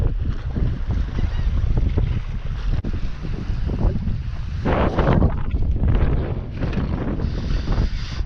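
Strong wind buffets a jetty on the South Texas coast during fishing, a continuous loud roar with gusty swells that swamps everything else and never lets up.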